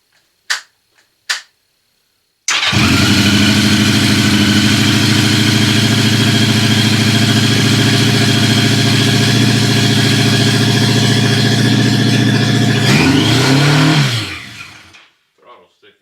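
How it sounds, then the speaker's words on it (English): 1982 Yamaha 650 Seca motorcycle engine with its idle set a little high, a few sharp clicks first, then a loud steady idle with a continuous low throbbing note that lasts about twelve seconds before shutting off. "Idle is set a little too high."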